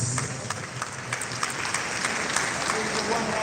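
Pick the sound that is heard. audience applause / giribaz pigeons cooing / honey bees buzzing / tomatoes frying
audience applause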